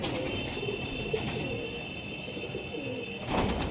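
High-flying pigeons cooing, soft repeated low coos under a steady background hiss, moderately close, with a slightly louder stir near the end.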